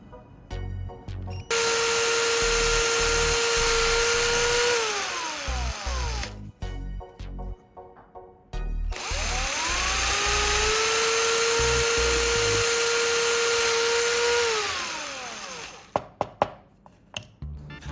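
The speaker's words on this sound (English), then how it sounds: "I'll carefully drill 3 small holes at the marked points." A power drill bores small holes in cardboard in two long bursts, each whining up to speed, holding a steady loud tone, then winding down, with short clicks and handling noise between and after, no talking.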